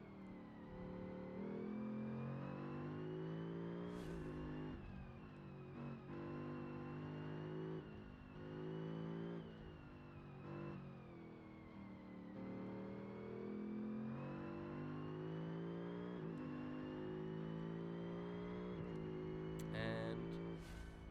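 The Civetta Scintilla fitted with a GT3 mod, driven in a racing game, revs hard and shifts through gears, its engine note climbing and dropping repeatedly over a long lap, loud and continuous, with occasional talking over it.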